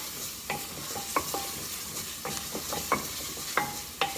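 Oregano frying in a pan for a Peruvian aderezo with onions, a steady sizzle running throughout while a spoon scrapes and stirs in irregular clicks, close and fairly loud, with no voices.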